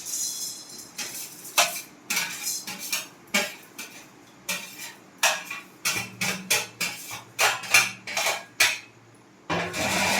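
Biryani spices dry-roast in a hot kadai, a spoon or spatula clinking and scraping against the metal in a quick irregular series of sharp taps and rattles, close and fairly loud, with no speech.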